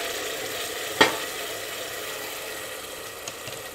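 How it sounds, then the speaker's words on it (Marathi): Onion and tomato paste sauté over medium heat for a pressure-cooker chicken curry, a soft steady sizzle with one sharp clink of a utensil near the start. "मीडियम गॅसवरच हे थोडंसं परतून घ्यायचं"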